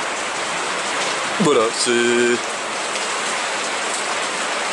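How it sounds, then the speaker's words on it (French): Heavy rain falls steadily outdoors as a dense, continuous hiss throughout, with someone briefly speaking French over it midway. "Ah oui, il pleut bien dehors là."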